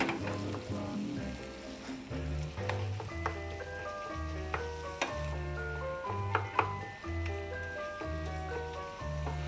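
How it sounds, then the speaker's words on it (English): Ground beef and onion fry in a pan, a steady soft sizzle with irregular pops and a recurring low tonal hum in the background. "Trying to mix the ground beef with onion."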